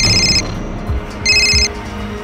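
A telephone rings in two bright electronic bursts separated by a short pause, loud and close, with no talk over it.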